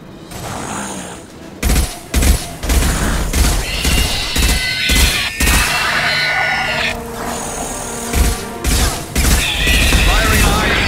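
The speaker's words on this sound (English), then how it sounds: "Firing a high impact shot." Video game gunfire rings out in repeated bursts of sharp shots, loud and close, mixed with mechanical clatter and crashing effects, with speech-like voices in the busy mix.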